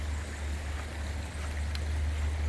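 Swollen stream after a heavy storm flows in a steady, low rumbling wash, close and constant, with a faint splash near the middle.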